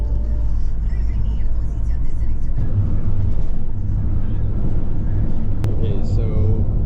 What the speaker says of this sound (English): we're driving on our first Moldovan highway or road or something